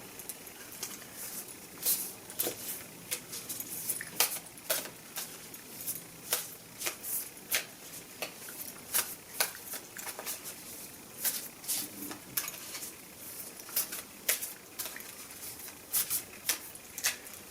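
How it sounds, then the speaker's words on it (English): A Moonology tarot card deck being shuffled by hand, with quick riffling card bursts repeating in an irregular rhythm, close up and alone with no talk. "I'm going to pull one more from the Moonology deck here."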